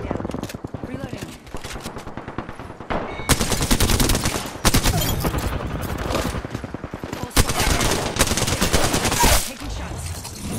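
Video game gunfire rattles in repeated loud automatic bursts with short pauses between them, and a voice talks through the shooting.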